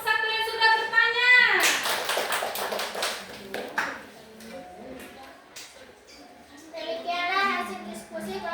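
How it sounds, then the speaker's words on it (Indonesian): A classroom bursts into a short round of clapping for a student group, loud and busy for a couple of seconds and then thinning out, with children's voices and chatter around it. "beri tepuk tangan dulu untuk kelompok 1 yang sudah bertanya"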